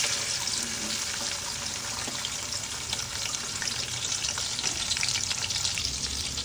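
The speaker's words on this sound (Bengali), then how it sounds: "তেল দিয়ে দিতেছি।" Oil hitting a hot pan while cooking kabsa with rice gives a loud, dense and continuous close-up sizzle, crackling steadily for several seconds with no voices.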